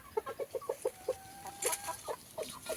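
Chickens clucking close by: a quick rhythmic run of short clucks, then scattered calls and a brief squawk, fairly faint with no talk.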